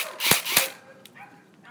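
An airsoft gun dry-fired with no BBs loaded gives two sharp close snaps in quick succession, followed by faint clicks.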